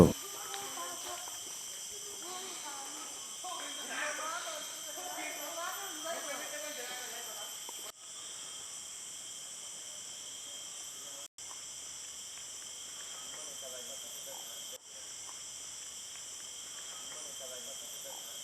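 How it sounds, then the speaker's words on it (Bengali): Crickets chirp in a forest in a constant high, shrill drone across the whole stretch, with faint speech underneath near the start. "তোমরা কি ঝিঝি পোকার শব্দ শুনতে পাচ্ছ?"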